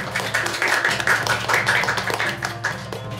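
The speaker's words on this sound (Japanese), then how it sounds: "拍手した方がいい。" Audience clapping at a speed-eating contest semifinal, a small group applauding in quick, uneven bursts, fairly close and continuous, with no talk over it.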